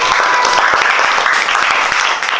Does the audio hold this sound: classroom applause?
yes